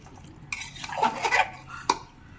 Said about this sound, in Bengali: এইভাবে আস্তে আস্তে আমরা নেড়ে নিচ্ছি।